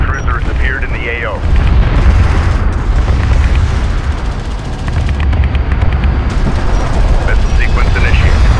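Missile barrage explosions in the real-time strategy game Homeworld: Deserts of Kharak, a loud continuous rumble of blasts and booms with scattered impacts, while voices talk over the battle.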